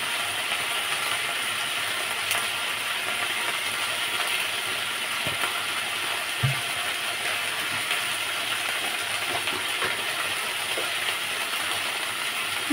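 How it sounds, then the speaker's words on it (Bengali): Okra and potatoes frying in a pan make a steady, even sizzle that runs unbroken and fairly loud, with a few faint clicks and knocks scattered through it and nobody speaking. "এখানে ঢেঁড়স আর আলু ভাজা হচ্ছে"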